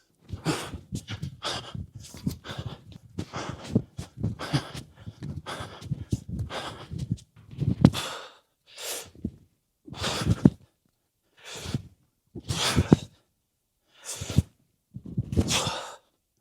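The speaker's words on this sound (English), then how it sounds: "As far as breathing on chest to bar pull-ups and bar muscle ups" Loud, sharp breaths during chest-to-bar pull-ups repeat in a quick rhythm up close, then slow into spaced, forceful exhales and inhales separated by short silences.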